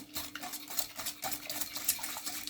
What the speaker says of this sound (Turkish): Şimdi iyicene karıştırıyoruz altını yakmadan